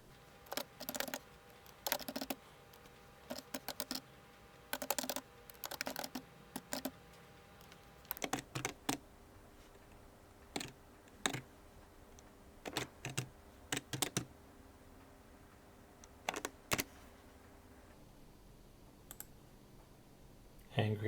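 Typing on a computer keyboard to fill in an online sign-up form, with bursts of quick, close key clicks separated by short pauses, alone and fairly faint.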